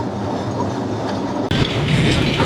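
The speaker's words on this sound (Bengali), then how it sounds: "এই হলো আমাদের ট্রাম, এটা গড়িয়াহাট থেকে এসপ্ল্যানেড যায়" A Kolkata tram on the Gariahat to Esplanade route rolls along its rails with a loud, close rumble, followed by a sharp clunk and a louder, rattling wheel noise.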